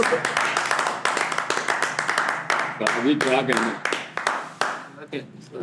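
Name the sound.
clapping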